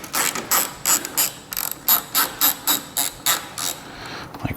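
A ratchet wrench working an overtightened bolt on a Volkswagen Golf bumper, a dozen or so quick clicking bursts in a steady back-and-forth rhythm, close and crisp with no talk.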